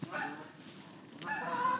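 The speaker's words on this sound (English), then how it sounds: "The geese" Several geese honk at moderate distance, a handful of nasal calls rising and falling over steady outdoor noise.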